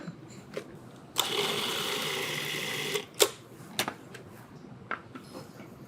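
A food processor whirs in one steady burst of about two seconds, grinding nuts with parsley, salt and pepper into a fine dry pesto, followed by scattered clicks and knocks of the machine and lid in a quiet room.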